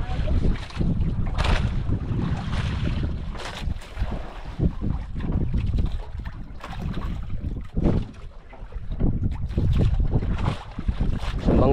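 Strong wind buffets the microphone at sea near a small fishing boat, gusty roaring bursts rising and falling continuously, close and loud, with water and hull sounds underneath.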